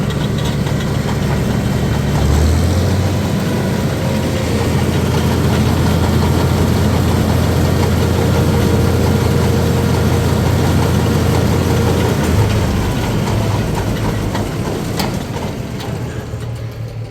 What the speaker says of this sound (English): run the auger faster, because it's all done kicking it out